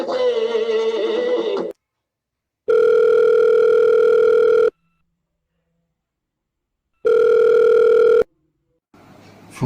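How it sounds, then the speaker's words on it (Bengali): A telephone call from a handset that fails to connect: long, steady electronic tones sound twice, separated by silent gaps, with other muffled sound at the start and end. "ফোনটা আর লাগলো না"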